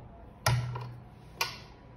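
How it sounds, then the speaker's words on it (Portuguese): A wrench turns to tighten a screw on an articulated monitor arm, giving two sharp, separate metallic clicks about a second apart, close by, in an otherwise quiet room. "eu consigo girar aqui a chave"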